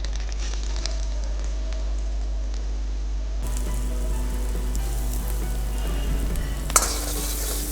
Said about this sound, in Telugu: సో ఆయిల్ వేడైపోయిన తర్వాత మనము కరివేపాకు అండ్ అలానే ఆనియన్స్ వేసుకున్నాము.